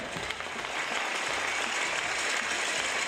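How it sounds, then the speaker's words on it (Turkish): Guests at a Turkish wedding hall clap as arriving officials are welcomed, a continuous wash of applause from a large crowd under amplified reverberant room noise. "Güzel bir alkış."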